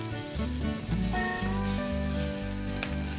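Chopped boiled potatoes go into a pan with hot oil, cumin seeds, curry leaves and green chilies, and a loud, steady sizzle of frying fills the whole moment close up.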